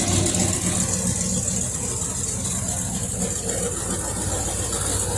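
A 1977 Chevrolet Impala two-door with a 350 V8, just pulled from long storage, idles at a steady low rumble, close and continuous, with no talking.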